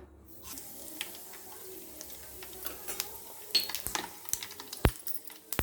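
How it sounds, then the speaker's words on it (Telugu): Cumin and mustard seeds hit hot oil for a cabbage pickle, crackling and popping in sharp, scattered ticks over a low sizzle, growing busier toward the end. "ఆయిల్ హీట్ అయింది. జీలకర్ర, ఆవాలు వేస్తున్నాం."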